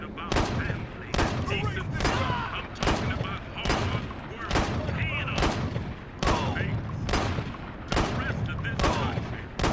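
Shotgun fire in the Gangstar Vegas video game, about nine loud, evenly spaced blasts in a steady rhythm, with a continuous layer of game noise and some voice underneath.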